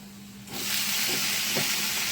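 Brinjal pieces drop into a hot pan and burst into a loud, steady sizzle that rises abruptly from a quiet hum and then holds, with faint stirring clinks.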